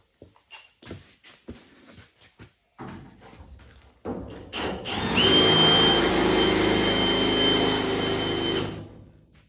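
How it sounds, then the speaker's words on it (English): Workshop clatter and light knocks give way to a steady, loud power drill boring through spot welds on a 1964 Chevy II body, a continuous whine for about four seconds before it cuts off. "It's easy to drill this hole all the way through and then just trim this here."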